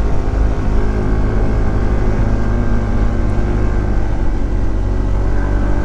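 A Honda ADV 160 scooter with a bored-up engine accelerates while riding, giving a loud, continuous engine drone with rumble and road noise that holds steady throughout, with no voices.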